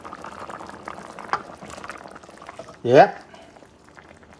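Pumpkin and pork stew bubbles steadily in a covered pot, a low continuous simmer running under a brief spoken word, with a short louder clatter near the end.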